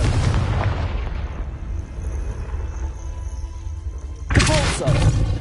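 A Confringo blasting spell explodes in Hogwarts Legacy, a sudden loud, broad blast bursting out near the end over a low, steady rumble of game ambience.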